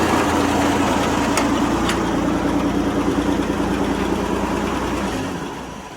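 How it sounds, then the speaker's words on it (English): An old car engine pulled from a barn idles steadily at close range, a loud, even rumble with a slight irregular pulse that fades lower in the final second, with no voices. "He runs and idles pretty good."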